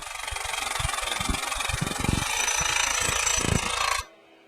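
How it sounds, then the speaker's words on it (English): A Geoprobe direct-push rig drives 2 1/8 inch probe rod into soil for a Macro-Core sample, a loud engine drone with heavy pounding thuds for about four seconds, then cutting off abruptly to near quiet. "I'll advance that 4 feet, and that will collect our soil sample from 12 to 14 feet"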